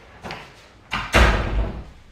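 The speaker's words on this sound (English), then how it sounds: "Shut the door." A door is pushed shut indoors, giving one close, heavy thud with a low boom, after a few softer knocks and rustles as it swings.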